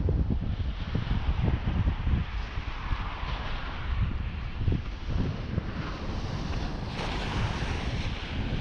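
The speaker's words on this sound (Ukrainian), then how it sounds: "Перепочину проти вітру сильно важко їхати" Strong wind buffets a microphone on a dam during a bicycle trip, a continuous loud roar and rumble filling the low end with steady gusting, no voices.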